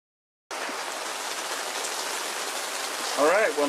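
Rain starts abruptly and falls steadily as a dense, even hiss at a schoolie bus build site where a table saw has just been set up, with a brief voice rising over it near the end.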